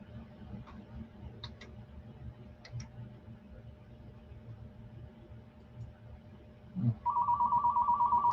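A telephone starts ringing near the end, a rapid warbling electronic trill that breaks in loudly over a quiet room with a low steady hum and a few faint ticks.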